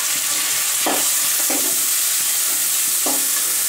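Onion, tomato and curry leaves fry in hot oil with a loud, steady hiss, broken by a few brief scraping stirs of a spoon against the pan.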